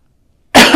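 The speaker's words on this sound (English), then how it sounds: "I'm sorry about that cough." A single sharp cough bursts out loud and close after a short silence.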